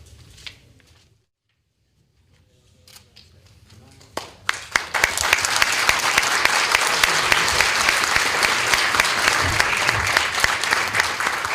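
Audience applause at the close of a stage show, breaking out after a quiet pause with a few scattered claps, then swelling into loud, sustained clapping that fills the rest of the clip.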